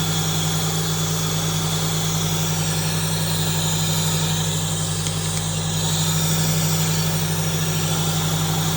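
A car engine idles while warming up, producing a constant, close, deep hum with a steady low drone and even rumble throughout and no change in pace.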